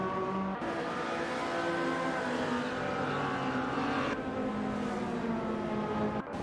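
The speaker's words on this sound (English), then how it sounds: "We've just witnessed a racing simulator event featuring artificial intelligence." Race car engines from an AI racing simulator game at Road Atlanta drone and whine in layered, shifting pitches, several cars overlapping, with a sudden gear change midway and a clipped cut at the end.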